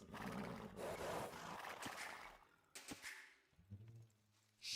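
A horse neighs in an Age of Empires 2 match, a loud close whinny with wavering pitch, followed by a few sharp clicks and softer in-game sounds and a brief noise burst at the end.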